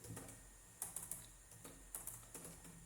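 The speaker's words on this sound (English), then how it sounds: "Now I'm going to type source" Light typing on a computer keyboard, a few quiet keystrokes in short clusters with small pauses between, close and faint in a quiet room.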